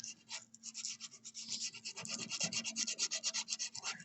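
Sandpaper rubbed by hand across wood, rounding a corner into a curve, makes quick rhythmic back-and-forth rasping strokes, close and alone, growing faster and stronger toward the end.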